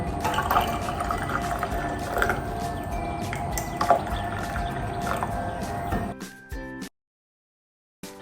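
Hot water for drinking pours steadily into a cup or glass with a close, continuous liquid rush, then cuts off into silence near the end.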